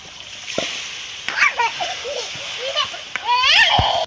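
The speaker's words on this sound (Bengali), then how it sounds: "তো আমি জল দিয়ে দিচ্ছি।" Water poured into a pan of olives tempered with chillies and five-spice for a sweet olive chutney, a short splashing and sloshing pour with a brief gurgle, close by and moderately loud, alone without talk.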